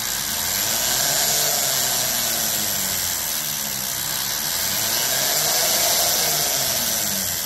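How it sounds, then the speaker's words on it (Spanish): A small SABILEX electric pendant hammer handpiece, speed set by a foot pedal, whirs at high pitch, a continuous rapid buzzing that rises and falls slightly in speed. "Aprieto y el variador mismo me maneja la velocidad del martillado."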